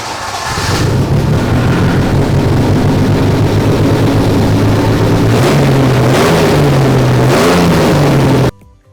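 A V6 engine starts and runs steadily, loud and close, its low hum shifting slightly in pitch with small revs before cutting off abruptly at the end.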